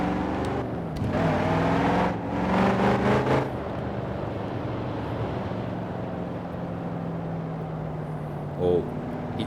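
A 1970 Chevrolet Chevelle SS muscle car drives on a snowy road on summer tires, heard from inside as a deep steady engine rumble with a brief rise in revs early on.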